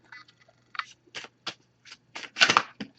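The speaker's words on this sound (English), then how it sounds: "I'm going to give this a few shuffles." A deck of Messages of Love oracle cards is shuffled by hand in a quiet room, giving a series of short, close riffling and slapping bursts separated by brief pauses.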